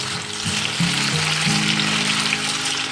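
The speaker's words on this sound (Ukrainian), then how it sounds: "І даємо картопельку. Нарізану соломкою." Julienned potato strips fry in a pan, giving a loud, steady, dense sizzle up close, with a low hum running underneath throughout.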